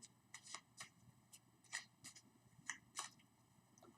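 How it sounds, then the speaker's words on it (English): Tarot cards being shuffled in a quiet room, a series of soft riffling and slapping bursts repeating at an uneven pace, fairly faint and close, with no voices. "They're telling me to really give these cards a good shuffle."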